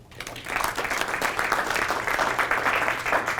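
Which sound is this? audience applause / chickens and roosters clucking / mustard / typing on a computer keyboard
audience applause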